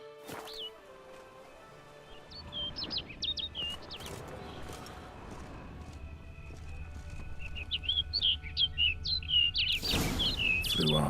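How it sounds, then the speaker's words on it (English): Birdsong in The Witcher 3: Blood and Wine, a swamp area: short bright chirps and warbles come in bursts, sparse at first and then a dense flurry near the end, over low ambient hum. "Looks like the bird's leading me somewhere."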